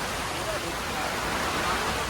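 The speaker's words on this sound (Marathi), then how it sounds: "किती एकदम जोरात पाऊस चालू आहे." Heavy rain pours down in Lonavala as a dense, steady, broadband hiss with no let-up, filling the whole scene at close range.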